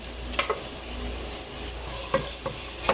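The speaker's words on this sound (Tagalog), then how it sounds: "You're gonna add garlic." Garlic hits a hot pan and sizzles steadily while a utensil stirs and scrapes the pan in quick, sharp clicks, close and fairly loud.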